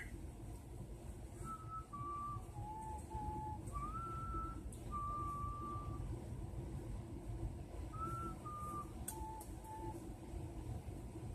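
Someone whistles a gentle melody of held and sliding notes from a song over a constant low background rumble, fairly quiet, with no talking.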